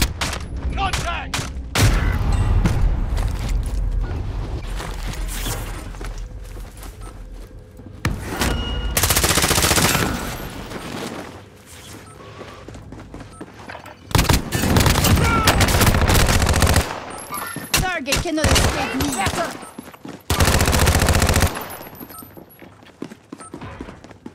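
Bursts of automatic gunfire in Call of Duty: Modern Warfare, loud and close, come in long dense stretches separated by quieter moments with battle noise and game voice callouts.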